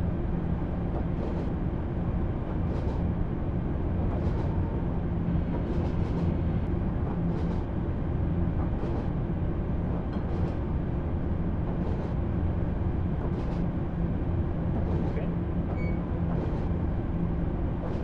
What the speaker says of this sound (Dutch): Zijn met deze trein, de 483's, die rijden nog steeds.